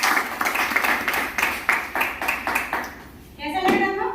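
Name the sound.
audience clapping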